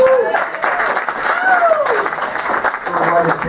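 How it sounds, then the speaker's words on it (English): Audience members applaud for a few seconds, a steady wash of clapping with a voice speaking over it near the start and middle. "Yes, another round of applause."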